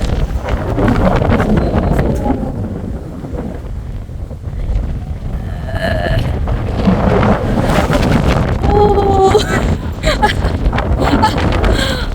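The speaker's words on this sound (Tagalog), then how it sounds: "Alakas ang hangin dito." Strong wind roars and buffets the microphone throughout at the Tian Tan Buddha in Hong Kong, with people talking and exclaiming over the constant low rumble.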